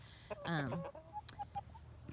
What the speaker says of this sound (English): I have quite a few hens and roosters.